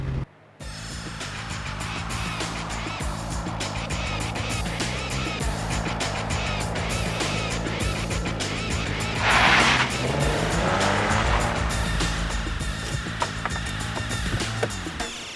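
A V6 car driven hard through its rev range, the engine note climbing and dropping as it accelerates, with a brief burst of tyre or road noise midway, loud and continuous throughout.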